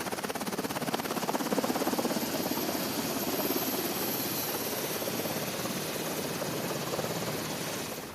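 A helicopter on a US destroyer's flight deck at sea roars steadily and loudly throughout, its rotor and engine a constant dense whir with no voices.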